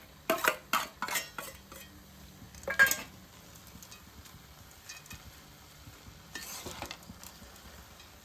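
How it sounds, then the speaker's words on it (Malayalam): Aval (flattened rice) is stirred in a pan along with fried ingredients, giving scattered metal clinks and scraping strokes, with a dense cluster early on and another near the end, over quiet kitchen background. "നന്നായിട്ടൊന്ന് ഇളക്കാം."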